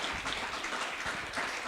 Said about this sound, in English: let's give a round of applause for Scott Wayman for joining us this week on the podcast